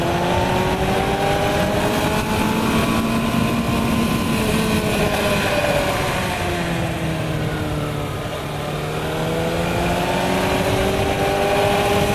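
A motorcycle rides along Highway 151, a winding mountain road in western North Carolina, its engine droning steadily and close with rising and falling pitch as it holds a pace through the curves, with no talk.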